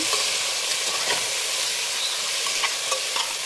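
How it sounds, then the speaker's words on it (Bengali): Tomato fried with turmeric, chili powder and sugar sizzles steadily in a pan, with scattered soft spatula clicks over a continuous close frying hiss. "দিয়ে বেশ খানিকক্ষণ মতো ভেজে নিচ্ছি।"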